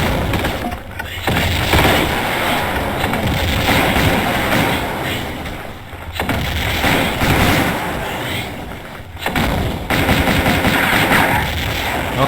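Gunfire and grenade launcher blasts in the video game Tomb Raider II Remastered, set in the Barkhang Monastery level in Tibet; dense, rapid bursts of shots and explosions, loud and nearly continuous with brief pauses.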